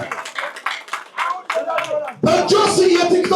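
A crowd at an event in Gondar breaks into loud, sustained applause after someone speaks, the clapping swelling suddenly and continuing densely.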